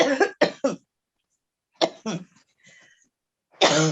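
A few sharp coughs in quick succession, then a pause, two more coughs and a faint voice, ending with a louder vocal burst.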